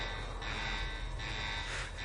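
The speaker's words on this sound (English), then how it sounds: "You gonna let me know the next time you wanna check the alarm?" An alarm buzzer blares continuously at close range, a steady loud electronic drone that swells in pulses about every second, with no talk over it.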